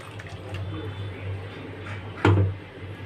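Leftover water from a bowl used to rinse a mustard-grinding mixer jar goes into a simmering hilsa mustard curry, a brief splash standing out over steady kitchen hum and background noise.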